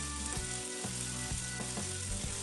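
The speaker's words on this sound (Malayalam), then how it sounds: "ഇനി ഇതിലേക്ക് മാരിനേറ്റ് ചെയ്ത് വെച്ചിട്ടുള്ള ചിക്കൻ്റെ പീസസ് ഇട്ടിട്ട് ഫ്രൈ ചെയ്തെടുക്കാം." Marinated chicken pieces for tandoori chicken sizzle steadily in a pan over medium flame, a continuous close frying hiss with soft periodic clinks and scrapes; no talking.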